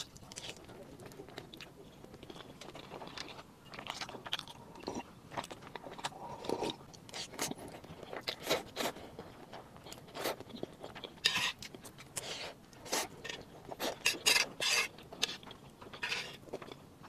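Close-up chewing of homemade cheese zhajiang noodles, with irregular wet smacks and soft crunches repeating through the stretch, fairly quiet and mostly alone.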